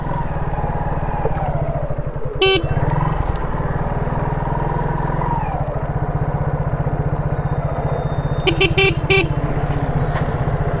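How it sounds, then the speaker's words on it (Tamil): Vehicle horns honking in short toots over the steady close drone of a motorcycle engine on a highway ride from Chennai to Salem, with a few sharp honks near the start and a cluster near the end. "அங்கே ஏதோ ஒரு வண்டி வருது"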